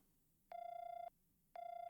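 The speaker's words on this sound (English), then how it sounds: "Lloyd called the phone number he received." A telephone rings on the other end of a call in the game Trails From Zero, two clean electronic tone bursts of about half a second each, separated by a pause, fairly faint and alone.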